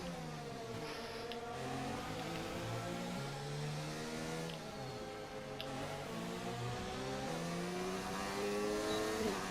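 Simulated F1 car engine in the F1 2019 racing game, at the Austrian Grand Prix with a failing gearbox, droning steadily with stepped pitch changes as it labours through upshifts, loud and continuous for the whole stretch.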